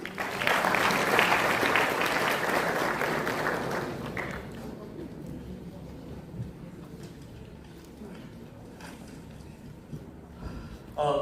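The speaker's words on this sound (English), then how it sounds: "Let's welcome him with a huge round of applause." An audience at a cyber security workshop claps loudly for about four seconds; the applause then thins and fades into a quieter room murmur.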